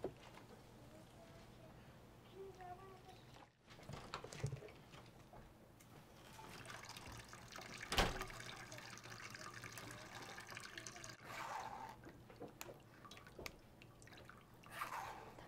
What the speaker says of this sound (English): But we'll pour our juice in here.